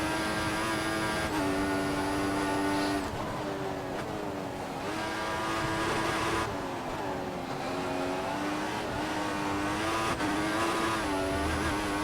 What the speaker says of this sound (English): Tyres are going. A lot of wheel spin.